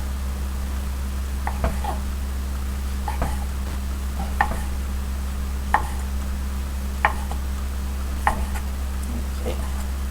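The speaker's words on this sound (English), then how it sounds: "we're going to chop it in a disc like that." A knife chops vegetables into discs for veggie rice chow, giving about eight evenly spaced taps on a cutting board under a steady low hum.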